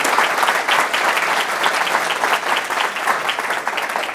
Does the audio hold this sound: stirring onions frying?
no